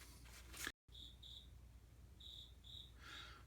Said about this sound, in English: I got a cricket back here, I don't know if you guys can hear it